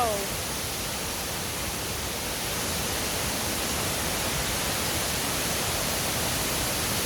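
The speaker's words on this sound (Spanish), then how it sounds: "Estamos en las cascadas Las Golondrinas." Las Golondrinas waterfall in the Lacandon jungle gives a steady, full roar of falling water, continuous and even throughout, with a brief voice at the very start.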